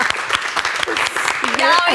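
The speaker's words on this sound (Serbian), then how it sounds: "veliki aplauz." A studio audience at a comedy talk show breaks into loud, sustained applause with clapping throughout, while a presenter speaks over it.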